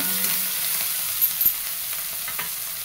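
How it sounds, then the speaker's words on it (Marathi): Okra with tomato and chopped coriander is stir-fried in a pan, giving a steady close sizzle with a few soft scraping stirs. "मस्त असं व्यवस्थित परतून घ्यायचं टाकून."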